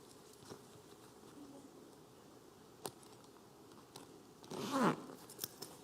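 A zipper on leather motorcycle chaps is pulled up in one quick rasping run near the end, with a few faint clicks and rustles beforehand.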